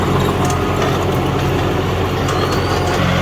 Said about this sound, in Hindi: बिल्कुल मज़े में चल रहा है ट्रैक्टर।